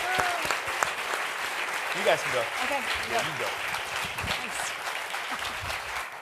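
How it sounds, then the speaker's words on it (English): A symposium audience applauds panelists with continuous dense clapping throughout, while people nearby talk briefly over it. "Let's give our panelists another round of applause."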